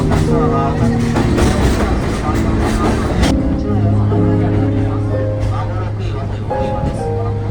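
A sightseeing trolley train running through Arashiyama, Kyoto, with loud, continuous rolling rumble, rattles and sustained tonal hums from the carriage, while an announcement plays over a speaker.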